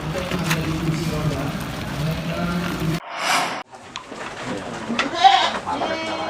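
Goats bleating on a goat-breeding farm in Lampung, Indonesia, several calls heard at close to moderate range over farm background noise, with a voice talking in the first half.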